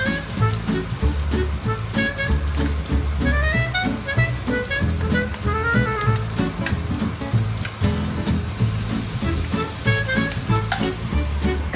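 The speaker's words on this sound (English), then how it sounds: "Pour ingredients and fried until solidified." Luncheon meat and rice cake mixture sizzles steadily as it fries in a wok, a loud, continuous crackle with small stirring clinks and music playing underneath.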